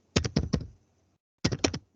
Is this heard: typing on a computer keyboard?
yes